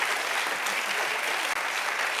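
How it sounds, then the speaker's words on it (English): A church audience claps during a preacher's sermon, a brief unbroken burst of loud applause with one tiny dip partway through and no speech. "And they clap."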